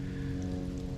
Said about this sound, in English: it's really starting to sprinkle good